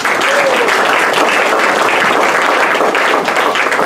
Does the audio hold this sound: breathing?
no